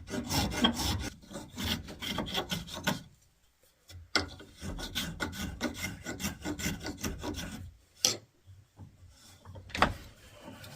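A carving tool scrapes and rasps along the spatula edge of a wooden spoon blank, tapering it in quick repeated strokes that come in bursts separated by short pauses, close and fairly quiet.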